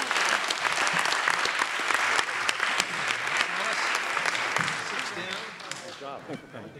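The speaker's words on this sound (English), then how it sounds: "Give you all yourselves a round of applause." A church congregation breaks into loud, sustained applause that fills the room and gradually thins toward the end, with voices talking over it.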